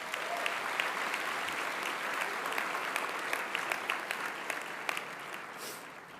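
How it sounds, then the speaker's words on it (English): A convocation audience at a business school's spring graduation ceremony claps steadily for over six seconds, a dense, even roar of many hands that tapers slightly at the end, with no talk over it. "Let's give them some applause."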